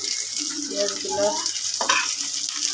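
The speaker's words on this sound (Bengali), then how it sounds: "দেখুন পেঁয়াজগুলোর সাথে মাছ ভাজি একটু ভেজে নেব।" Fish and onions fry together in a pan, giving a steady broadband sizzle with a brief stir or scrape near the end; other kitchen sounds are faint.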